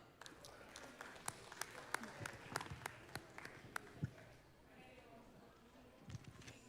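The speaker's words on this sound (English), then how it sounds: "let's clap for her" Sparse, faint clapping from an audience at a community awards gala in Chicago, a few scattered claps popping irregularly over a low murmur of the hall, with quiet talk in the background.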